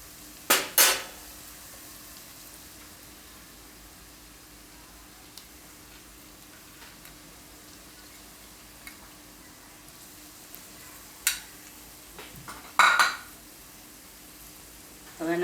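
A spoon stirs yogurt masala into fried onions in an oily pan for paneer toofani, a faint low sizzle broken by a few loud, sharp clanks of metal on the pan.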